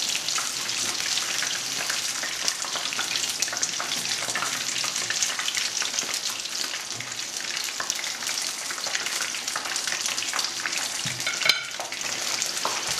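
Haddock in beer batter fries in hot beef dripping with a dense, constant sizzle and crackle. Occasional clinks and splutters come through as the pieces are turned over.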